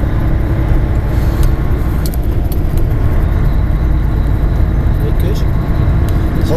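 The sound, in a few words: truck driving at about 35 miles per hour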